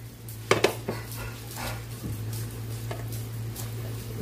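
A lid goes onto a cooking pot of pinangat na isda and pork ribs sinigang with a couple of quick metallic clanks, followed by softer knocks over a steady low hum from the stove.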